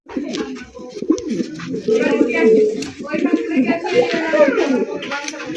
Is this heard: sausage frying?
no